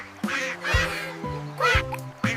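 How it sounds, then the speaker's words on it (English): A duck quacks several times in short, separate bursts, close and clear within a children's farm-animal learning song. "Look at the duck says, Quack, quack,"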